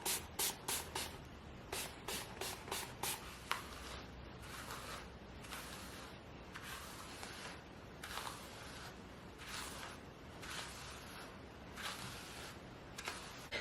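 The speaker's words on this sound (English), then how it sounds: "I'm going to use some water with conditioner and some mousse. All right, so I'm going to spray her down." Hand spray bottle of water mixed with conditioner misting onto clip-in hair extensions, a quick run of sharp hissy bursts at the start, then softer intermittent sprays with handling rustle, close and quiet.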